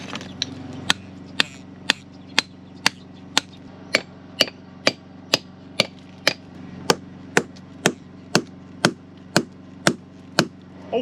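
A hammer strikes metal feathers and wedges in stone again and again, about two blows per second, each crisp and ringing, over a constant low mechanical drone.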